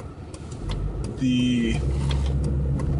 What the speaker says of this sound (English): the stock bass exhaust on the sedan is a lot louder than the hatchback